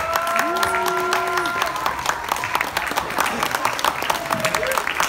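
Audience applause for child performers at a school stage show, steady broadband clapping filling the clip, with a few adult voices and a short tone rising over it near the start and end.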